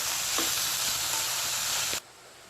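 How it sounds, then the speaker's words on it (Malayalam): Sliced onions sautéing in a pan with a little salt as they are stirred, a loud, even hiss with a few soft spoon scrapes, cutting off abruptly to quiet room tone near the end. "ചേർത്തതിന് ശേഷം സവാള ഇടയ്ക്കിടയ്ക്ക് ഇളക്കിക്കൊണ്ടിരിക്കുക."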